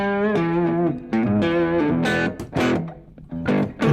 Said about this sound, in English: It gets that distortion.